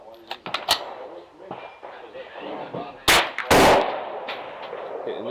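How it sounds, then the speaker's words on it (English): Large-caliber rifles fire at an outdoor rifle range with steel targets out to 500 yards, loud sharp blasts with a heavy boom near the end, while people talk between shots. "they're shooting these big guns."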